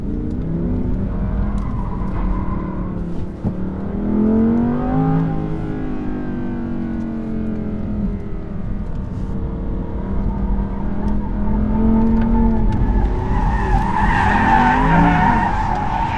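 An Audi R8 RWS drifts in second gear with a manual gearbox on a half-dry, half-wet track, its engine droning loud and steady while the tires skid, and the pitch rises and falls as the car slides.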